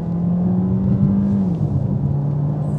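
A Peugeot 408 GT plug-in hybrid's combustion engine pulls under acceleration, a steady low droning hum that rises slightly then eases, heard from inside the car with no talking.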